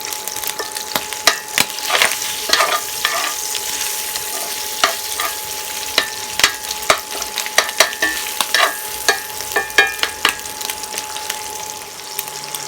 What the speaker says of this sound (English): So I'm going to begin to chop the sausage apart as I cook it.